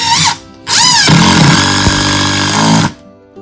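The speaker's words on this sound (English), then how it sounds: "So, once again, we're using the Ryobi impact, and so far it's working good. Okay, and we're screwing in here." A Ryobi impact driver sinking a screw into a board, a loud whine with rapid hammering clatter, briefly pausing then running steadily for about two seconds before stopping.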